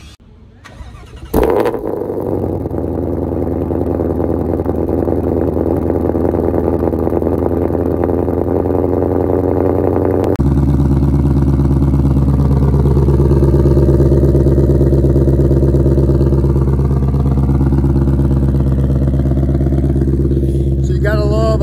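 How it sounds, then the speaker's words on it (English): A 2020 Shelby GT500 with a quad-tip exhaust cranks and fires up on a cold start, then settles into a loud, throaty idle with a deep rumble that holds steady, close by. "Quad tip exhaust sounds killer. Without further ado, let's hear it."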